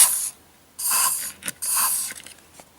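Short bursts of XCP rust blocker lubricant sprayed from an aerosol can through a thin adapter nozzle tube into a mechanism's workings; three hissing blasts close up, separated by small clicks and pauses.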